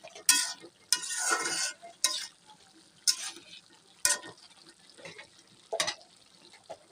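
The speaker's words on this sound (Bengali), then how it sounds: "সবজিগুলো দেওয়ার পর সবজিগুলোকে কষিয়ে নিচ্ছি।" Vegetables sautéed in a pan for a rohu fish curry with broad beans, several scraping stirring strokes over a soft background sizzle, close and irregular, with no talking.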